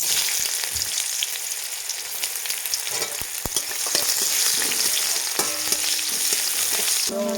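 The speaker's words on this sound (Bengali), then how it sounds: "পেঁয়াজটা ভাজা হয়ে গেছে" Continuous sizzling of chopped onions frying in hot oil with dried chillies, with occasional scrapes and clinks of a utensil stirring in the pan.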